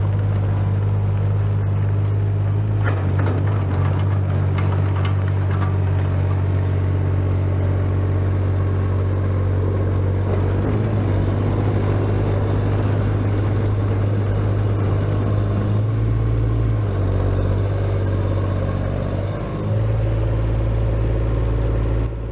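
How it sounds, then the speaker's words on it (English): A mini excavator being loaded onto a 16-foot dump trailer runs with a loud, steady diesel engine drone and deep low hum throughout, with occasional rises and clunks as the machine shifts, and no talk. "let's get this mini excavator loaded on here and see how it does"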